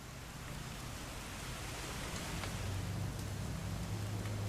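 Rain falls in the video game What Remains of Edith Finch, a constant soft hiss of dense drops that stays faint and even throughout, with no voices.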